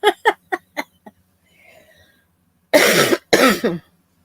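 A woman coughs several times in a quick, close burst, goes quiet with faint rustling, then gives two longer, harsher coughs near the microphone.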